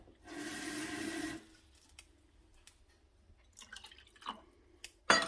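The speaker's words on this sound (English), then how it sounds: "We're gonna add the cold water to each." Cold water poured from a tap into pots on a stove makes a steady rushing stream for about a second, then stops, followed by scattered drips, soft clinks and a sharp knock at the end.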